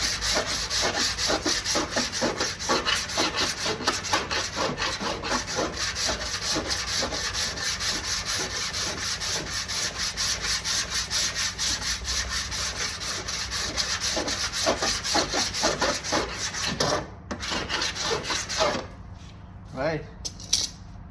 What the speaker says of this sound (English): sand it down to bare metal, get all the paint off, and get your file. You don't want to push down too hard